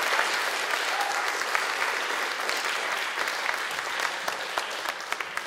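An audience at the NUI Galway SU Enterprise Awards 2012 gives the college bar's catering staff a warm round of applause, steady dense clapping that carries on for several seconds.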